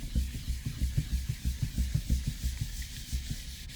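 Charcoal blended and rubbed across portrait paper on a grey ground, a close, soft gritty scrubbing in quick rhythmic strokes, about a dozen back-and-forth passes, with no voices.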